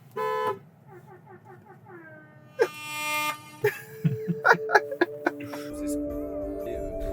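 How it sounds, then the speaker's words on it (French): A car horn on a Romanian road toots several short, separate blasts close by, with engine and traffic noise around them. "Vas-y, fais le klaxon."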